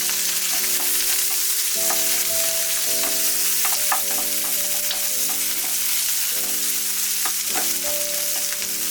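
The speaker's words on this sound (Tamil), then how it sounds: "விட்டுட்டு 1 கப்பு வெங்காயம் இதையும் போட்டு நம்ம வதக்கி எடுத்துக்குவோம்" Onions sautéing in sesame oil in a pan for a Tamil brinjal gravy, giving a steady, close sizzle with occasional clicks of stirring and a faint background hum throughout.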